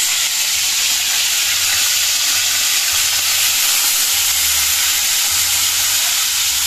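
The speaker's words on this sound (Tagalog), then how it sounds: "Tayo muna po ay magpiprito po ng ating isda mga kabayabas." Fish frying in hot oil for a Filipino cardillo dish, giving a loud, steady sizzling hiss that runs unbroken throughout, with a faint low rumble pulsing underneath and no talking.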